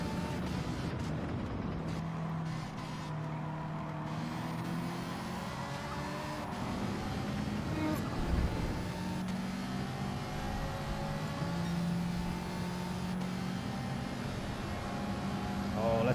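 Race cars, including a Ferrari and a WRX, drive in the Gran Turismo video game with a steady, sustained engine drone and whirring tones that hold at a moderate level throughout.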